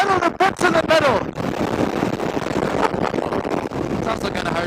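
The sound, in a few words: wind blowing into microphone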